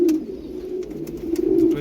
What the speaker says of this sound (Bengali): খুব ভালো কোয়ালিটি, খুবই ভালো কোয়ালিটি রেসার পায়রা।